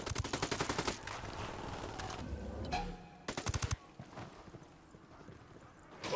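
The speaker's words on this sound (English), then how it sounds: "Opening fire." Rapid automatic gunfire bursts from a firefight in the open-world shooter Ghost Recon Wildlands, loud sharp volleys at the start, a second burst midway, then scattered shots and movement under ambient game sound.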